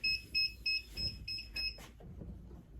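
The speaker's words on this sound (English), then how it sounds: "Okay, so my timer is going off here." A kitchen-style timer beeps in a rapid series of about six high, piercing tones beside a heat press used for applying heat transfer vinyl, followed by soft handling noise.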